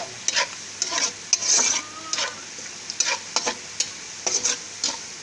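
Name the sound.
garlic, ginger and whole spices frying in oil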